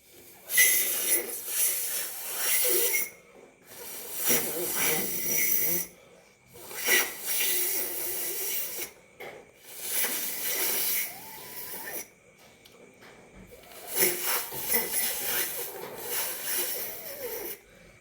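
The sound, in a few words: person blowing air into a leaf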